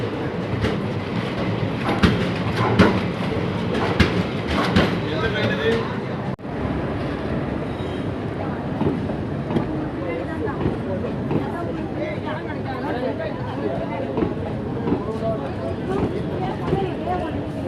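The Nagercoil–Chennai weekly express passenger train rumbles and clatters steadily along the tracks near Tirunelveli Junction, loud and close, with rhythmic clicking wheels and a person speaking over the noise.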